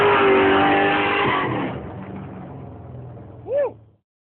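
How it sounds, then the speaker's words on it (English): A Formula Drift Nissan 350Z with an LS3 engine roars loud and close, holding a high engine note before the sound fades off, with a brief chirp-like sweep near the end. "Formula Drift, Nissan 350Z, Lone LS3"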